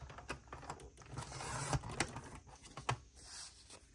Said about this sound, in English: so let's trim this off